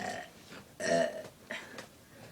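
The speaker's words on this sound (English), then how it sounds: "That was backwards burping." A person burps several times in quick succession, short throaty croaks close to the microphone, the middle one loudest and longest, with a quiet room behind.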